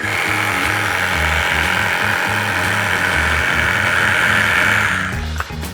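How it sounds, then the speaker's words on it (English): A reciprocating saw with its blade removed is used to vibrate freshly poured wet concrete for a pub table, a loud, steady, close buzzing rattle that cuts off near the end, followed by a few faint clicks. "Sawzall without the saw in it. Just vibrate it."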